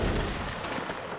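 A cannon fires in an online multiplayer line-battle video game, a loud broadband boom that rolls on and fades over about a second with no talk.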